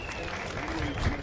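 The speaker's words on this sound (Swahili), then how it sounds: "simameni pigia kwa makofi" Audience at a public gathering in Eldoret, Kenya, clapping together as officials and veteran runners are honored; a brief, dense burst of applause that stays level throughout.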